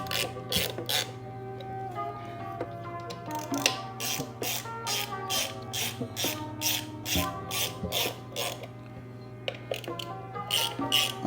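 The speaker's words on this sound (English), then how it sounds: "make sure you tighten your derby cover down and the star pattern" Hand ratchet clicking as it tightens the derby cover bolts on a Harley-Davidson, a close, rapid series of repeated ratcheting strokes over a low steady hum.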